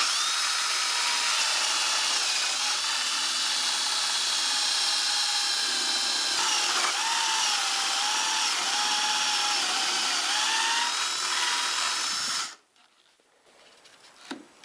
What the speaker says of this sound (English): now I can just drill the hole